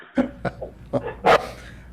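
A puppy entering a room during an online commission meeting lets out a few short squeaky yips and barks, spaced irregularly and fairly close, with one louder final squeal.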